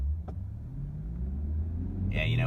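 An Infiniti Q60 Red Sport 400 launches on the Circuit of the Americas F1 track, its engine a steady, close, low rumble that builds slightly toward the end, with a voice faintly present.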